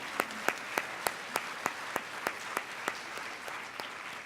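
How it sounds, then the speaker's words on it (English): A conference audience applauds a healthcare panel with steady clapping, one clear clap beating out a regular rhythm above the mass of hands. "Big round of applause for our panel."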